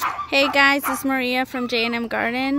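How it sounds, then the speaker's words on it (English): Excited dogs yip and whine at their owner's return home at the end of October, with high, strained cries in quick bursts, loud and close, mixed with someone talking. "please excuse the dogs because they just saw me get home, so they're going crazy"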